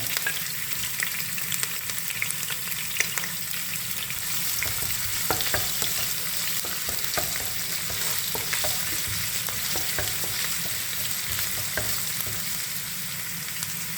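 Ginger fries in hot oil for a Kerala-style rabbit roast, giving a dense, even sizzle close up with faint scrapes and ticks of stirring scattered throughout and no voices.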